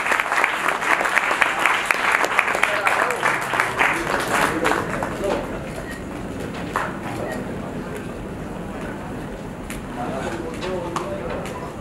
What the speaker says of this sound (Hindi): आप सबसे निवेदन है तालियां वालियां बजाते रहें।